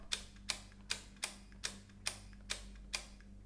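A series of eight crisp mechanical clicks at a steady pace from a Märklin digital model railway turnout switching, each sharp and close, over a low electrical hum.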